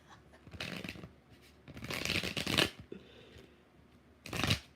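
Tarot cards shuffled in three bursts of riffling and sliding, the longest in the middle and a short final flurry, close and fairly quiet.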